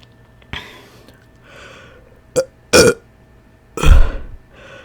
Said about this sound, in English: most of my burps ain't small, but when I get off camera, that's when they be big